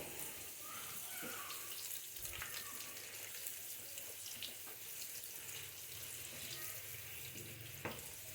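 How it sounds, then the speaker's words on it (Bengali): Potato pieces for aloo dum frying in a pan, a steady broadband sizzle running throughout with occasional soft clicks of stirring and turning, close and even in level. "এটা ভালো করে ভেজে নেব"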